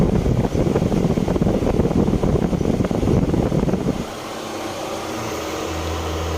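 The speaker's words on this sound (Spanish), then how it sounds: "y ahí está el ventilador funcionando." An electric radiator fan on a car runs with a steady, loud whooshing roar, then drops sharply to a quieter hum with a low drone for the last couple of seconds.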